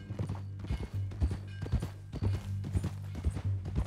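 Horse hooves clip-clopping in Red Dead Redemption 2, a steady close rhythm of hoof strikes at a walking pace over a low droning background.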